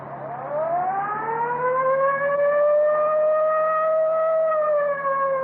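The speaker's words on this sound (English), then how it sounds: "Yeah, I'll get the siren." A police car siren in an old-time crime radio drama winds up and holds a rising, wailing tone, loud and alone for several seconds.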